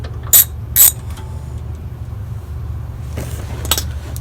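A hand ratchet clicks while backing bolts off a Jeep JL or JT for a rub rail step kit install, with two sharp, loud bursts early and a softer round of clicking later, close up with no talk.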